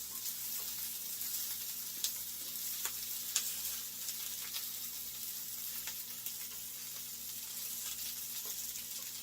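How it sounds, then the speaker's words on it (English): Pierogies fry in a cast iron pan with a soft, continuous sizzle and a few small pops, quiet and close, with no talking. "So I want to make sure now that all the pierogies are down on the surface."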